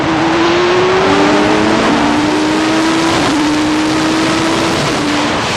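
A Pescarolo C60 race car sprints against a Mirage 2000 jet fighter, giving a loud, steady engine roar with a sustained tone that climbs slowly through the run and carries no talk.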